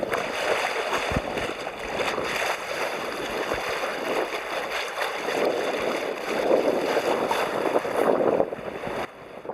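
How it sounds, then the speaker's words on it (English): The bow of a small sailboat on a river cuts through the water, giving a steady close hiss and gurgle of rushing water with faint wind noise and no talking. "The sound of the bow breaking water like music to my ears."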